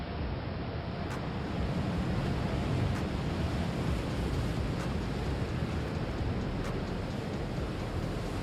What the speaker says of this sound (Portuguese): E se você achou aquela onda assustadora, dá só uma olhada nessa aqui, surfada por Lucas Chumbo em fevereiro de 2017.